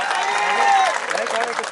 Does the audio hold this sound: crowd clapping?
yes